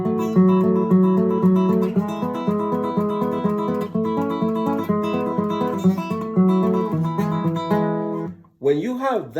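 Acoustic guitar fingerpicked with thumb, index and middle fingers rolls through a steady repeating arpeggio pattern, clear and close; it stops near the end and a voice briefly speaks.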